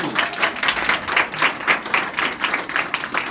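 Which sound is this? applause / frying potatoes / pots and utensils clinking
applause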